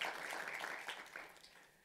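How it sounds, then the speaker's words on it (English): Audience applause at a select committee hearing on infectious diseases, a dense wash of many hands clapping together, steady then tapering off over a couple of seconds. "Let's give her a round of applause."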